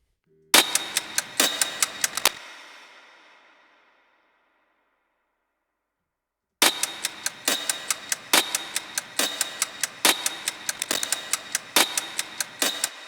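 Crisp, close mechanical ticking in a steady rhythm, briefly stopping with a fading ring before the ticks resume at the same pace.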